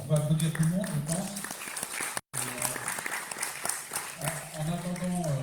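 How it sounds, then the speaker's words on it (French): An audience at a roundtable on the ocean breaks into applause, the clapping heard alongside a speaker's voice that dominates the start and end. "Oui, en attendant, on va applaudir tout le monde"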